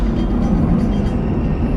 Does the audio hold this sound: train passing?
yes